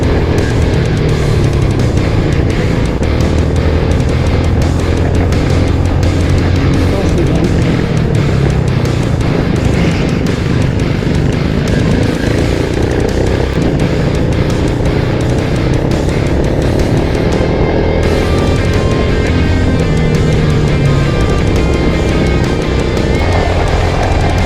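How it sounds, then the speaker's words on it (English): A slow racing go-kart in a long endurance race at Gladstone Kart Track, its engine droning loud and steady without letup, pitch rising and falling through corners and straights. "The kart is very, very slow."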